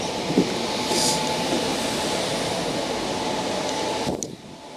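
A Sydney Tangara electric train runs on the T6 Carlingford Line with a steady interior rumble and hum, a couple of faint clicks and a brief high whine, before the noise drops away near the end.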